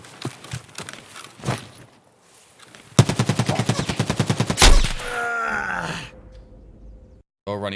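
Gunfire in the video game Escape from Tarkov: scattered single shots, then a loud, rapid, evenly spaced automatic burst lasting nearly two seconds, followed by a sharp final report and a fading rumble.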